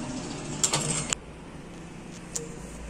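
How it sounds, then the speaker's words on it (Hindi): A sewing machine runs a short burst of stitches through folded fabric for a car backseat organizer, a quick rattle of clicks lasting about half a second, then only quiet room sound with a single faint tap later. "फिर इस तरह से फोल्ड करके यहाँ पर सिलाई कर देंगे"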